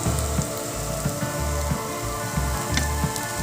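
Khasla bora fritters frying slowly over low heat in oil, a steady close sizzle with soft bubbling pops running continuously throughout.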